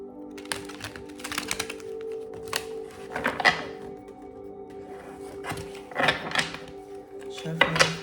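Tarot cards shuffled by hand in a series of soft, crisp riffles and slaps, close by and moderately quiet over a steady low hum, with a few sharper bursts near the end.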